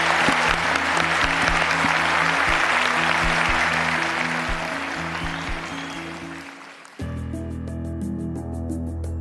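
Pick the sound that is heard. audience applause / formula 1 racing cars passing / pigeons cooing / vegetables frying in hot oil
audience applause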